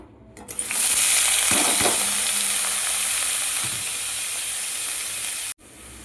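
Freshwater snails tipped into a little hot oil in a kadai burst into a loud sizzle that settles into steady frying hiss, then cuts off abruptly near the end.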